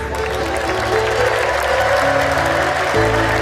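A worship congregation clapping together, steady dense applause filling the space throughout, with faint voices and music mixed underneath.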